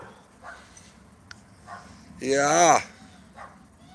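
Dogs bark and yip in the background behind a live stream, one louder burst of barking rising briefly over faint room noise, with a person speaking briefly.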